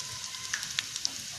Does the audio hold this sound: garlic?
yes